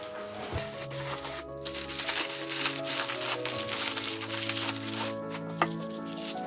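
A delivered package holding plant pots for succulents is opened, with loud close crinkling and rustling of plastic packaging, a few sharp crackles and knocks, and steady tonal background music underneath.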